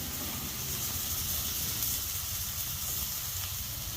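Lady's finger (okra) sautéing in a pan for a home-style Tamil poriyal, a continuous close hissing sizzle with a faint crackle throughout.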